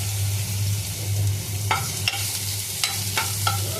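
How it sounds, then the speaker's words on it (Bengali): Leafy gourd greens fry with garlic in a pan, giving a steady close sizzle over a low hum, with a few sharp scrapes and clacks from stirring. "আর এখানে করছি রসুন দিয়ে শাক করছি, শাক ভাজা"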